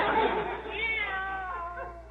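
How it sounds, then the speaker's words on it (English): A cat meows with a drawn-out, wavering cry, fairly close and clear against a quiet background. "I'm certain that was a cat."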